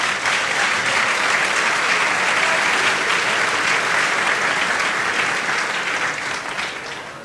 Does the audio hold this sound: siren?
no